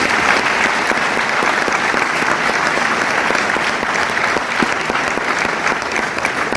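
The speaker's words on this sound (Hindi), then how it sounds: "जोरदार ताली होनी चाहिए" Loud, sustained applause from a large seminar audience, dense steady clapping filling the whole stretch without letting up, with a faint crowd murmur underneath.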